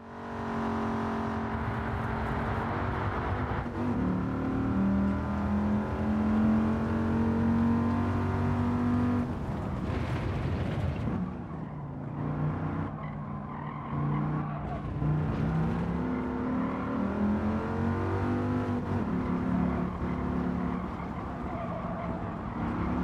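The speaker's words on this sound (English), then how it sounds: "we get into a Dodge Viper GTS at Laguna" A Dodge Viper GTS laps Laguna Seca in Gran Turismo 7, its engine droning and rising through gears with shifts and brief tire noise, steady and fairly close with no talking.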